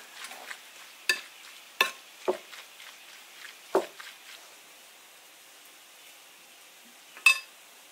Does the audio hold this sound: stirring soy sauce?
yes